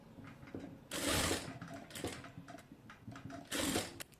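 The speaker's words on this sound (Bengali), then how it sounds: "আমি এরকম করে কুচির উপর দিয়ে হচ্ছে সেলাইটা করে নেব" A sewing machine stitches over fabric pleats in quick, quiet whirring runs, with two fuller bursts and light mechanical clicks between them at a close but low level.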